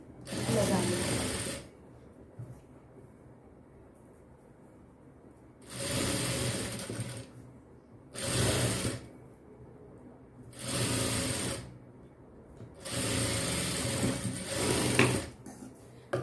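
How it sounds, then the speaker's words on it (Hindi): A sewing machine runs in several short bursts while stitching the seam of a cross-cut blouse, its loud, rapid whirring broken by quiet pauses between passes. "अब हम इस साइड से एक सिलाई बराबर करके लगाएंगे।"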